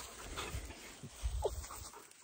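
A dog found out in the bush near an off-grid log cabin homestead pants in quick, soft breaths, faint and close, against a hissy outdoor background.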